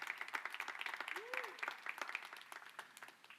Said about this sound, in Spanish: aplaude como discípulo